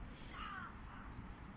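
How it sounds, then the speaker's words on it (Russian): A single faint caw from crows or rooks in a Berlin park with a birch grove, distant and brief over steady outdoor wind and ambient noise. "Висят вороны или грачи,"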